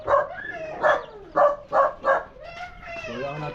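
A dog barks several times in short, sharp bursts close by, mixed in with people talking in Filipino outdoors.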